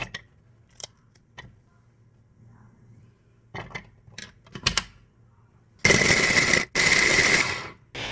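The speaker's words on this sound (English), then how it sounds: "I'm also chopping green chilies with garlic." Food chopper whirring through green chilies and garlic in two loud bursts near the end, preceded by a few scattered clicks and clatters in a quiet kitchen.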